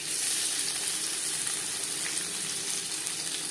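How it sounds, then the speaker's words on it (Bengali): Panch phoron spice mix frying in hot refined oil, a steady close sizzle and crackle that holds evenly throughout with no talk. "15-20 সেকেন্ড 5 ফোড়ন ভেজে নেওয়ার পর"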